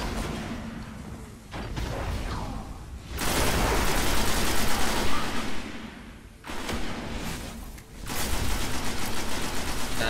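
Auto rifle gunfire in Destiny Crucible PvP rattles in long sustained bursts, loud and close, with short pauses between volleys.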